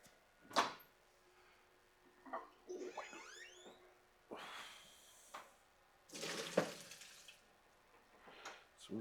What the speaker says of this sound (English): So we will strain these.